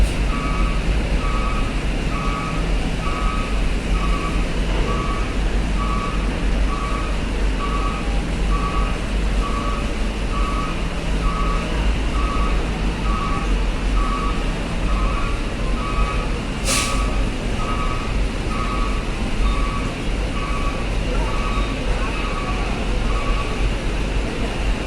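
Vehicles and trucks roll off the KMP Kirana 2 ferry at Bakauheni port to a constant low rumble of engines, while a reversing alarm beeps rhythmically and steadily above it and a brief hiss cuts in midway.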